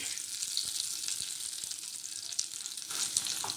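Hot spice tempering crackles and sizzles steadily after being poured into tomato-ginger chutney, a close, continuous frying hiss with small pops and no talking.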